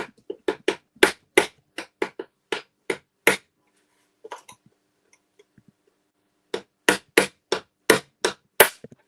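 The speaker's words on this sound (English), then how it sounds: "I'm going to see if I can split this spot weld" Sharp metallic hammer blows strike a car body spot weld to split it, a quick run of loud, evenly spaced hits, a pause with faint taps, then another rapid burst of strikes.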